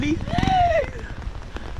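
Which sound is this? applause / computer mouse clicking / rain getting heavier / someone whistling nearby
rain getting heavier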